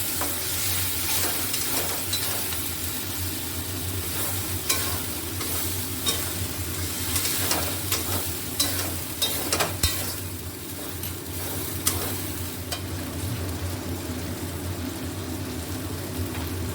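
Spice masala for egg tadka sizzles steadily in a pan, a constant hiss broken by frequent scraping stirs and light utensil knocks, close and fairly quiet.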